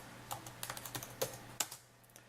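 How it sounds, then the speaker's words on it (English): Quick typing on a computer keyboard, about a dozen soft close keystrokes in short irregular bursts with a couple of sharper taps, no voices. "let me just type it in here"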